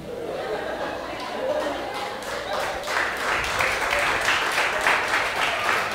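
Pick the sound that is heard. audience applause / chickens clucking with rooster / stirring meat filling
audience applause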